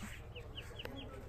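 Newly hatched ducklings peep in short, high chirps, a quick run of faint calls over a low rumbling background.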